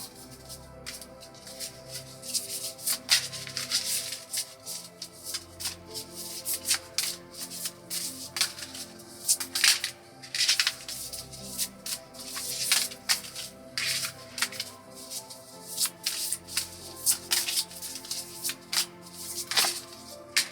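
Tarot cards are shuffled by hand, a long run of quick, crisp riffling and sliding bursts that repeat irregularly, close and clear, with no talking.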